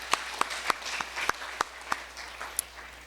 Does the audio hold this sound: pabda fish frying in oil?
no